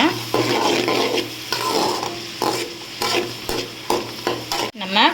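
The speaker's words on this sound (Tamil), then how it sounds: "ஒரு பச்சை மிளகா ஒரு கொடை மிளகா ஒரு கேரட்டு இதெல்லாம் சேர்த்து நல்லா வதக்கிக்கோங்க" Green chili, capsicum and carrot saute in an oiled pan for egg Maggi, with a close, steady sizzle broken by repeated scraping stir strokes about every second.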